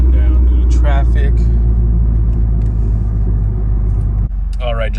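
A 4th-gen Mazda fitted with a Corksport short ram intake slows in traffic, its engine a loud, steady low rumble that drops slightly near the end, while a person talks over it.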